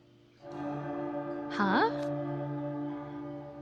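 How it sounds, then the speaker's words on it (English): Bell of Solace in the Twisted Wonderland game rings once as a short, bright chime amid sustained tonal game music, with a brief spoken exclamation nearby. "There's no mistaking that distinctive ring."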